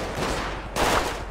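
Video game gunfire, a dense burst of rapid shots rattling continuously, loud and close, with a sharper volley kicking in partway through.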